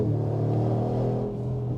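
The engine of a Brabus 700 hp G63 AMG G-Wagon rumbles in a loud, sustained low drone held steady for the whole stretch, close and with no voices over it.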